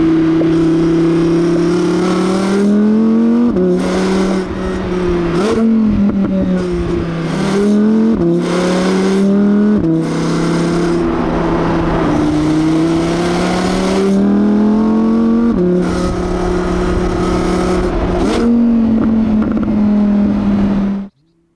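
A 2020 Audi R8 RWD 5.2-litre naturally aspirated V10 revving high, repeatedly climbing and dropping in pitch through gear changes, loud and continuous, with sharp shifts and a sudden cut at the end.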